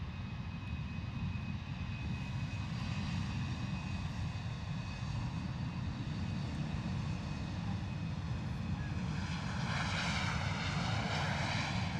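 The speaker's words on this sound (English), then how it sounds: "EasyJet A320 in from Geneva with Sue Clayton's son on board as the pilot" An EasyJet Airbus A320 airliner arriving from Geneva and landing at foggy London Luton Airport gives off a steady, loud jet roar throughout, swelling near the end as the aircraft passes close.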